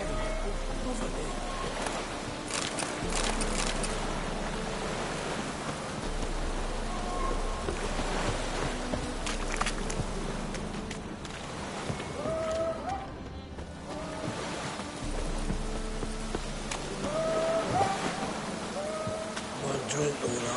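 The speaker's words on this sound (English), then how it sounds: "looks like rain" Steady rain falls in The Witcher 3: Wild Hunt, a soft continuous patter running through the whole stretch under voices and game sounds.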